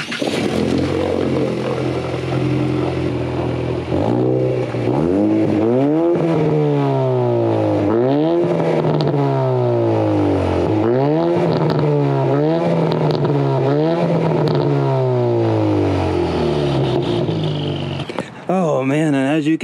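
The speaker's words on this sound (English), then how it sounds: "start the car and redline the crap out of it" A car engine revs hard to redline again and again to blow carbon out of the exhaust, each sweep rising and falling in a loud, close, repeated pattern that runs nearly the whole time.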